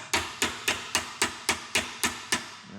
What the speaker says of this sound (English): There are a few roll pins that we're gonna need to remove with a punch and a hammer.